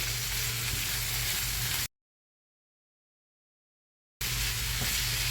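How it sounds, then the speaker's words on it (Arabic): Half a kilo of minced meat sizzles steadily in a pan with softened onion and carrot as it is stirred, a dense close frying hiss broken by about two seconds of total silence. "وبعد ما البصل والجزر دبلوا هنزل بنص كيلو من اللحمة المفرومة"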